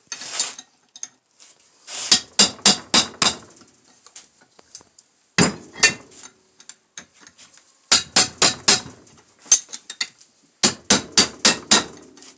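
Metal hammer blows seat a rebuilt hydraulic pump on a Ford 8N tractor, landing in sharp, close, ringing bursts of four or five quick strikes separated by short pauses, with no talking.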